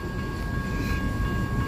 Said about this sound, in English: I've never seen both of these crossings blocked by a train at the same time.